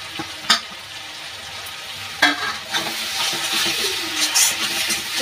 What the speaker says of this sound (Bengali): মশলাটা আমার কি সুন্দর ভাজা ভাজা হয়ে যাচ্ছে, মশলার গায়ে থেকে তেল ছেড়ে দিয়েছে।